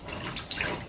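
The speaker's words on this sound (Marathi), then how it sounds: "पाणी निघायला लागलं इकडनं बाहेर." Water spills out of a tank in a faint, steady rush with brief splashy bursts, heard close and without talk.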